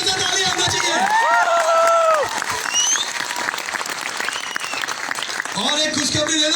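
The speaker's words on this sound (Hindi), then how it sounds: "एक जोरदार पीछे से ताली आना चाहिए।" Loud audience applause at a company recognition program, dense clapping that fills the hall while an amplified voice talks and exclaims over it at the start and end.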